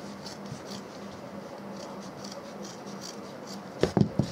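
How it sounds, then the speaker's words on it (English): Scissors cut through Ankara fabric for a handbag, a faint soft rasping snip at close range that ends in a few sharper clicks of the blades. "I'll cut it out with my scissors"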